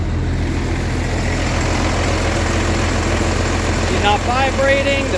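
An International DTA360 diesel engine idling in a Thomas school bus after a water pump replacement, a steady low rumbling drone that runs loud and unbroken, with a brief faint tonal whine near the end.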